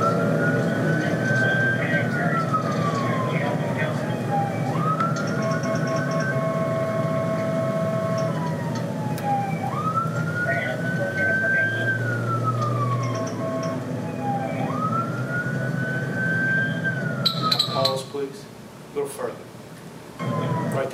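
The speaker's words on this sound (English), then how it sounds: "you got lights and sirens on, so you're in a hurry to get there" A police car siren wails in repeated rising-and-falling sweeps, about four cycles, loud and steady, with a short burst of clatter near the end, heard from inside the vehicle on bodycam.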